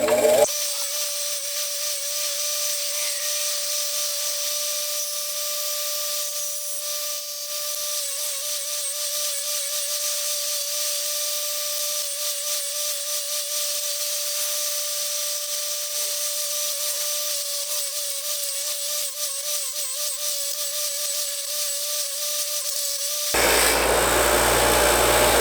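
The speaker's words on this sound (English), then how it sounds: "So I've just got a wire wheel here, and let's go to town." Wire wheel scrubbing a vise pin and screw nut, a steady whining power-tool drone with gritty hiss that holds for over twenty seconds before cutting off abruptly near the end.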